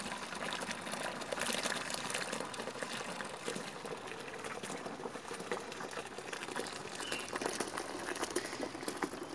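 Scalding hot water pouring out of a pipe at a home pool area, a continuous hissing, bubbling gush of liquid at a steady moderate level with no talking.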